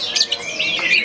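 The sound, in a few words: songbird chirping at bird club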